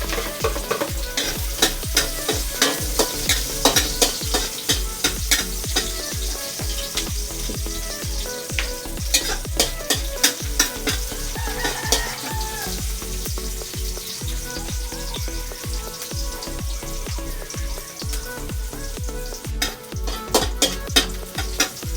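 Garlic, onion and ginger sauté in a hot pan with steady broadband sizzling, punctuated by frequent sharp scraping and stirring clicks from a utensil throughout, loud and close with no talking.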